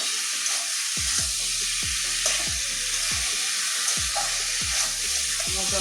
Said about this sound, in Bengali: সিদ্ধ করে রাখা লতিটা দিয়ে দিচ্ছি। এবারে ভালো করে কষিয়ে নেব।